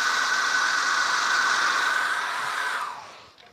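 A hair dryer blows with a steady loud whoosh and whine for several seconds, then switches off and winds down.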